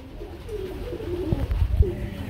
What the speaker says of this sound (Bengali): আমরা কিন্তু মাশাআল্লাহ এখানে দেখতে পাচ্ছি আরেক জোড়া কবুতর চলে আসছে